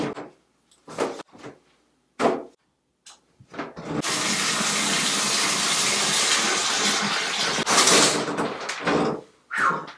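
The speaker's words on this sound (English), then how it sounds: "I got a shower." A shower runs in a steady, close rush of spraying water for about four seconds, with sharp bathroom clunks and knocks before and after it starts and stops.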